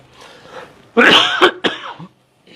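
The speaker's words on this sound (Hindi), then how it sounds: "आज थोड़ी सी खांसी परेशान करेगी" Several harsh, close coughs in a quick burst, with a bit of throat clearing, then a brief pause.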